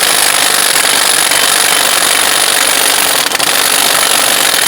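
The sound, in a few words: impact gun snugging up the CV axle nut on Jeep Grand Cherokee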